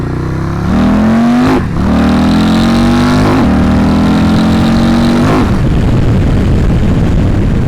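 A 2026 Harley-Davidson CVO Road Glide ST motorcycle accelerates hard, its loud, close engine note climbing through several gear shifts, each marked by a brief dip before the pitch rises again.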